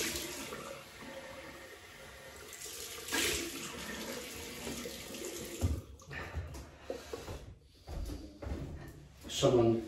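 A bathroom tap runs for rinsing the face after a wet shave with a Lord L6 double-edge razor and alum, water splashing and gurgling in a sink with clattering handling noises, while someone talks over it.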